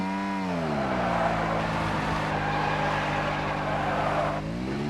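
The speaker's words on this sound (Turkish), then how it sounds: "Motorla bir drift atayım dedim. El freni çektim" In the mobile shooter PUBG Mobile, a motorcycle engine whines and sweeps in pitch as the bike drifts with the handbrake pulled, loud and close with sliding tire noise.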